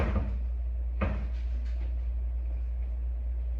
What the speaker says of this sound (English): He's locked the door.